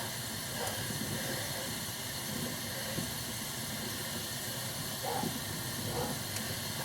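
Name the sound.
steam hissing while heating dye bath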